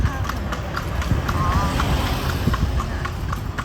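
Horse hooves clip-clop in a steady, brisk rhythm as a horse-drawn carriage rolls through town streets in Lampang, Thailand, close and continuous against a busy outdoor background.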